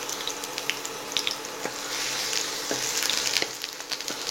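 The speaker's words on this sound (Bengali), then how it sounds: "30 সেকেন্ডসের মতো আদা আর রসুনটা আমি ফ্রাই করে" Chopped ginger and garlic frying in hot refined oil for egg chow mein, a steady close sizzle with scattered small pops and crackles, no talking.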